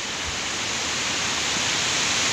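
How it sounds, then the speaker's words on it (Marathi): Clear stream water flowing toward a waterfall at Chandranagar near Dapoli in the Konkan makes a loud, constant rushing roar with no breaks and no voices. "स्वच्छ निवळ पाणी, आणि हेच पाणी खालती धबधब्यावरती जातं"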